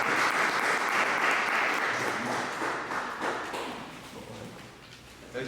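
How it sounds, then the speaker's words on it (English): A crowd applauds at a youth sports program gathering, steady broadband clapping for about five seconds that slowly thins toward the end. "give a round of applause for my man"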